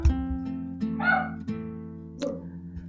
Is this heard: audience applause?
no